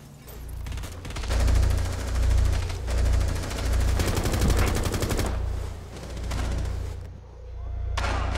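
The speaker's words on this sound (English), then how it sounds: "someone else is shooting from the window." Rapid automatic gunfire and booming shots from a Rainbow Six Siege tactical shooter match crackle in dense, loud bursts that swell and fade over several seconds, with faint game voice chatter beneath.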